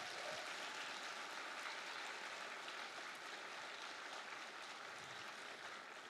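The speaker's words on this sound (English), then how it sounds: "Can we give them one more round of applause?" An audience at a district honor band concert applauds the student musicians, a continuous dense wash of clapping heard from a distance, steady and even throughout.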